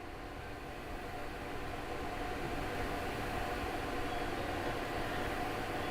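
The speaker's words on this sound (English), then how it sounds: "You on the train on the way home from work, Christoph?" Steady, broadband rumble and hiss fill the inside of a commuter train on the ride home from work, constant and unbroken with no voices.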